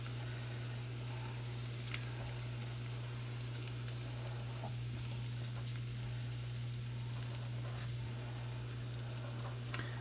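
Poblano pepper and a few tomatoes sizzle and fry steadily in a pan for pork carnitas tacos, a continuous close crackle with small pops and a steady low hum underneath, no talking.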